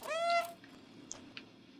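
A single short cat meow from the video game Stray, clear and synthetic-sounding, followed by a couple of faint clicks in a quiet background.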